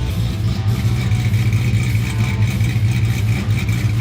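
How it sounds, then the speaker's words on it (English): A 1,000hp all-aluminum factory engine runs steadily and loud, a dense, throbbing mechanical roar with a rough pulsing rhythm and light clatter, close and continuous throughout. "When we first fired this engine up, this thing sounded real healthy"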